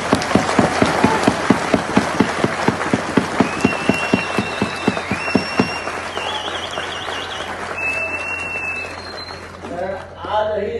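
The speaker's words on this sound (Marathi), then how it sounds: "विजयी उमेदवाराला जेवढ्या टाळ्या पडत नाहीत तेवढ्या कीर्तीकरांना पडत" An audience at a Shiv Sena political rally in Maharashtra claps for Amol Kirtikar, steady rhythmic applause that fades after about six seconds, leaving faint crowd murmur and scattered voices.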